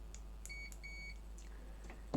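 A few short electronic beeps from a multimeter in continuity mode testing a PS4 power supply board, some brief and some held longer, close by in a quiet room, ending with a click.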